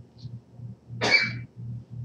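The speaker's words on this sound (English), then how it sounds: "sneeze came up out of nowhere" A single sudden sneeze bursts out during a live talk show, loud and close, about half a second long, with a low background hum running steadily underneath.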